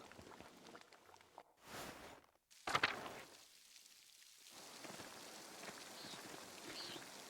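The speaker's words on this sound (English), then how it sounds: "Here, it's raining." Soft steady patter of rain in the Pentiment video game, faint and continuous, broken by short gaps, a brief louder rustle, and a quieter stretch before the shower resumes.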